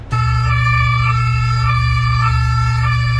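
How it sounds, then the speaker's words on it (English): A loud, steady electronic alarm tone with a fixed pitch and many harmonics, sounding continuously with no pauses or variation; Brunei's emergency alert alarm, taken from an ambulance siren. "They just took the sound of an ambulance and were like, yep, that's our alarm."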